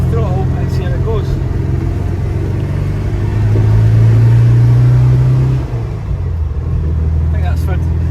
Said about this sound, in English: So we'll give it a wee bit of throttle and see how it goes.